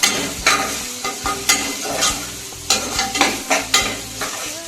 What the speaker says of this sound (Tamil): இது கொஞ்சம் டைம் ஆகும் காலிஃப்ளவர் ஃப்ரை ஆகிட்டு